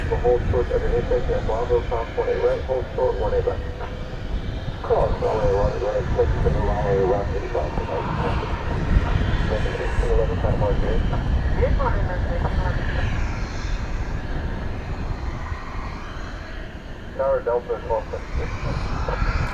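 Airliners take off at DFW Airport, a broad distant jet roar that rumbles on steadily beneath near-constant talking from a person nearby.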